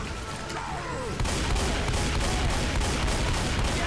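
Dense, continuous burst of gunfire in Left 4 Dead, rapid shots rattling close and loud after a short lead-in of quieter game sounds and distant shots.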